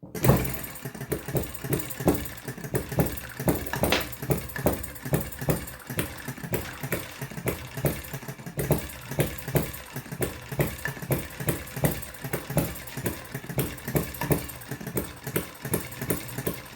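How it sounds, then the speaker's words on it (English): A small Retrol & Musa HM-01 model engine runs steadily for a long stretch, with a fast regular knocking from its wooden mount bouncing on a table, moderately loud and alone. "The knocking is the wood bouncing on the table, but far, far more stable than any of the other engines we've run"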